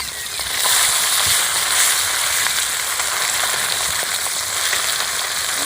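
Khoira river fish, turned over and frying in mustard oil, giving a continuous dense sizzle with faint crackles, loud and close throughout with no voices.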